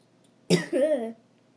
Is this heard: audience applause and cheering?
no